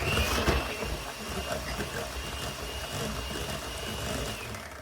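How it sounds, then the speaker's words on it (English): An electric mixer whirs through einkorn banana bread batter, a steady motor drone with a faint high whine, louder at the start then easing slightly, close and with no talk. "you're just taking ingredients, dumping them, and mixing them with your mixer"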